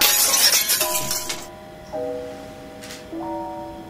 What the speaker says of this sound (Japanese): お皿が一枚割れてしまったのです。